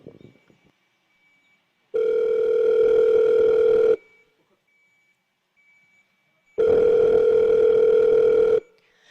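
A telephone dial tone sounds while a call is placed to the 119 emergency line, two loud steady tones of about two seconds each separated by a pause, near and alone.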